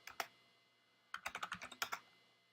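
Keystrokes on a computer keyboard as a command is typed into a Linux terminal: two quick taps, a pause, then a fast run of about ten crisp clicks, close and clear with no talking.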